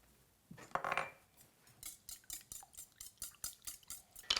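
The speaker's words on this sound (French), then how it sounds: "On assaisonne de sel et de poivre et on va battre à l'aide d'un fouet" Eggs whisked in a large salad bowl, seasoned with salt and pepper, give a quick rhythmic run of wire-whisk clicks and scrapes against the bowl, fairly close and alone.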